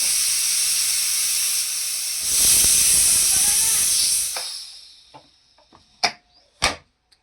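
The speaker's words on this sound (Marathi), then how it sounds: "आता आपण कुकरला झाकण लावून ह्याचे 2 शिट्या काढून घेऊया." A pressure cooker with chicken keema inside lets off a loud, steady steam whistle for about four seconds, then it fades. A few sharp clicks and knocks follow close by.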